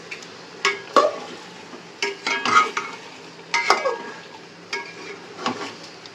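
Marinated meat is sautéed and stirred in a pan: repeated scraping and stirring strokes come in irregular bursts over a steady low frying hiss.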